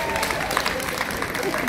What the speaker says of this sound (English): Keep clapping for them, everybody!